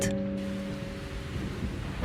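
A thunderstorm around a castle, with a low thunder rumble and a steady wash of rain sounding throughout a short stretch, fairly loud and continuous.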